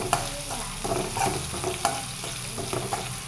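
Chopped vegetables fry in a pan with onions, a continuous close sizzle broken by repeated scraping stirs and a few sharp clinks of the spoon, with no voices.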